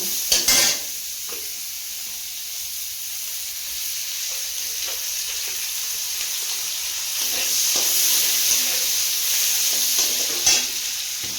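Onions frying in a pan, stirred now and then, for a river magur catfish curry: a steady close sizzle with scraping stir strokes throughout, no talking.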